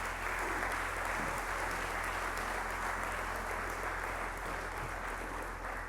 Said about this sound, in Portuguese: queremos, em viva voz, pedir uma grande salva de palmas para todos os atores que estiveram direto ou indiretamente envolvidos